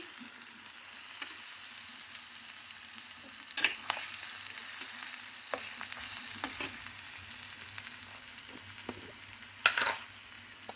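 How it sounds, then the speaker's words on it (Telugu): Vermicelli, onions, green chillies and ginger garlic paste fry in a pan for masala vermicelli, a soft steady sizzle with occasional louder stirring scrapes, close but fairly quiet, with no talk. "వర్రిసెల్లి, ఉల్లిపాయలు, పచ్చిమిరపకాయలు వేసి వేగిన తర్వాత అల్లం వెల్లుల్లి పేస్ట్ వేసానండి"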